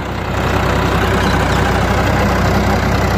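A Ford 3600 tractor engine runs steadily at idle, a low, even, continuous rumble with a regular thumping pulse throughout and no voices.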